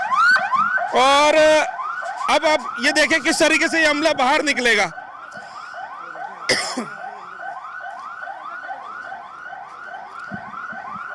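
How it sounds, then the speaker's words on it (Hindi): A fire engine siren wails in a repeating rising-and-falling cycle throughout, loud and close, with people speaking over its start and a brief horn-like blast midway. "ये सायरन बजाते हुए आ रहे हैं"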